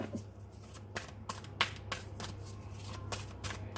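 Tarot cards are shuffled close up in steady, repeated riffles and slides, a quick papery flutter against a low background hum.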